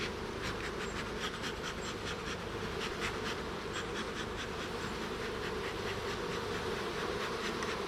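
Honey bees buzzing steadily around an open hive during queen grafting, a dense, close, continuous hum with no talking.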